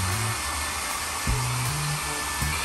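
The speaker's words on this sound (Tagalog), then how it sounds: "Kasi pag di ako nag-blower yung buho ko" A hair dryer blows on someone's hair in a steady, loud, continuous whir with a low motor hum running unbroken throughout.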